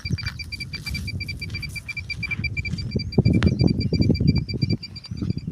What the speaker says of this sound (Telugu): ఇట్లా ఇది తిరుగుతున్నప్పుడు ఇట్లా బీప్ సౌండ్ వస్తుంది కదా